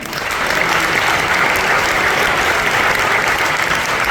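A dinner-show audience at Le Mirage claps for the chef, sustained dense applause that stays loud and steady throughout without a break.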